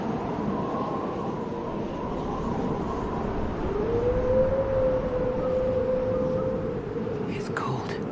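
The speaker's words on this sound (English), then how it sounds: "I think I hear wolves" Wolves howl in the video game Dragon Age: Inquisition: a single long, sustained howl rises and then holds steady, sounding distant over a constant windy wilderness ambience.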